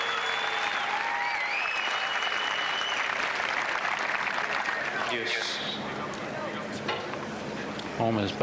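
A tennis crowd at a 1996 Boetsch–Edberg match applauds steadily after an ace, with whistles and a few cheering voices in the mix and a commentator's voice briefly audible near the end.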